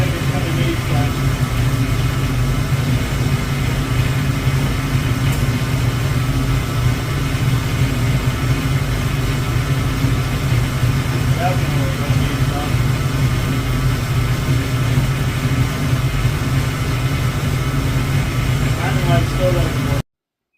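A 1972 Ford Mustang Mach 1 V8 engine idles steadily on its first start after restoration, a low, even rumble throughout through a quiet exhaust, a continuous drone with no revving.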